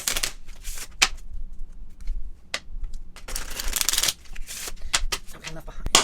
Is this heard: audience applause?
no